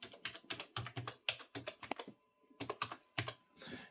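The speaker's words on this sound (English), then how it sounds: "We're going to type the address." Brisk typing on a computer keyboard, a dense run of sharp key clicks with a brief pause midway before another burst, close and clear with no talk.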